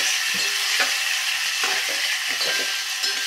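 Finely chopped tomato cooks in a tempering for Maharashtrian varan, a steady close sizzle broken by several soft scraping stirs of the spoon.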